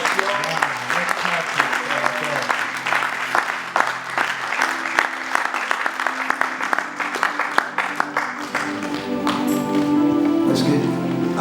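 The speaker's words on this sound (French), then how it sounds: "Puisse encore vous demander vos acclamations" A church congregation at a celebration service claps, with sharp rhythmic beats carried along by music and voices. The clapping thins into a sustained crowd swell near the end.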